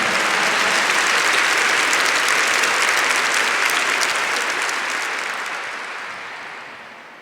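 A congregation claps loudly in sustained, dense applause at a church gathering, tapering off gradually over the final seconds.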